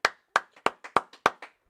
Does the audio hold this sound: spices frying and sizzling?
no